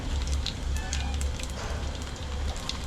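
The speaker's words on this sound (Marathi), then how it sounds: "मस्त हे तेलसुद्धा आता गरम झाला आहे. थोडा जिरा टाकूया." Cumin seeds sizzle in hot oil with a dense, continuous frying crackle and hiss, close and steady throughout the short stretch.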